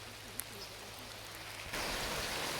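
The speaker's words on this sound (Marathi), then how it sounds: "नेमका पाऊस पण आला आहे" Monsoon rain falling over a Konkan village at paddy sowing time, quiet at first and then swelling into a steady, dense hiss of rain on surfaces partway through, with no voices.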